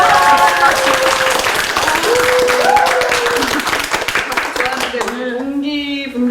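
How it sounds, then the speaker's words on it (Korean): Crowd claps at a Korean gathering of middle and high school classmates, a dense rhythmic patter sustained throughout under loud music and a voice, with voices breaking through near the end. "박수!"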